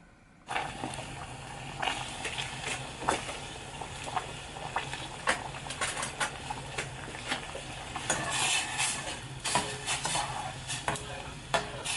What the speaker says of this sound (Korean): 바닥이 안 타게 살짝씩 저어주세요.